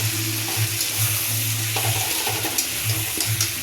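A spice paste made with nuts is poured over fried potatoes in a pan, sizzling and bubbling steadily with irregular stirring and scraping knocks throughout.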